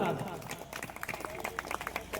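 A crowd at a wedding claps in a brisk, scattered burst of applause while a voice carries on over it.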